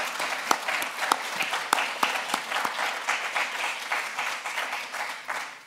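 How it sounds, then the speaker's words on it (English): An audience at an arts event applauds warmly, a steady wash of many hands with a few sharper individual claps standing out near the front. "let's do a round of applause at the very beginning."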